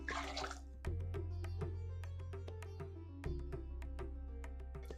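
Water, including water from boiled tomatoes, is poured into a pot while making rasam on a stove, with a brief splashy rush followed by scattered drips and light clinks over a low steady hum.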